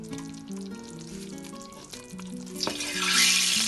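Fried pakoras drop into a simmering yoghurt kadhi, giving a low bubbling under music, then a louder sizzling splash near the end, with no talking.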